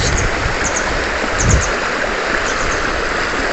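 A river at a gem hunting site in Abra, heard as steady broadband rushing water, close and continuous throughout with no talk.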